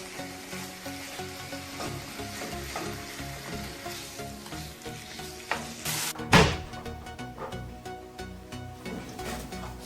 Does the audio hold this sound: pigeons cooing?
no